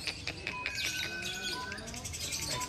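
Songbirds at a chirping competition sing over one another, a dense stream of rapid tweets and trills at moderate distance, with crowd murmur and voices beneath.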